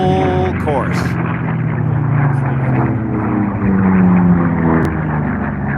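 Unlimited-class racing propeller aircraft, a P-40 and Mustangs, drone steadily over the course at the Reno air races, a continuous engine roar with a shifting pitch, partly under a commentator's voice.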